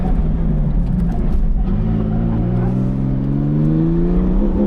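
An autocross car accelerates hard out of a corner, its engine note climbing steadily in pitch under a loud, close, continuous roar with wind and road noise.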